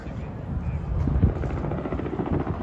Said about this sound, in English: Hey, there's a chopper.